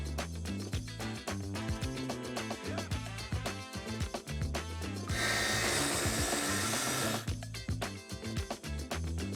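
A saw cuts through an Oregon pine board in rapid, rhythmic rasping strokes, the noise broken by a few seconds of dense, steady grinding in the middle.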